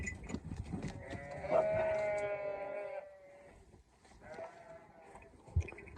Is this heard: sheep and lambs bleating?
yes